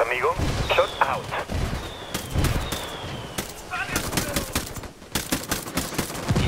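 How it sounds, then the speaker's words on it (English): An indirect-fire artillery strike lands in Ghost Recon Wildlands: repeated sharp blasts and crackling gunfire, loud and close, in irregular bursts over several seconds, with faint radio tones mixed in. "I'm calling for indirect fire"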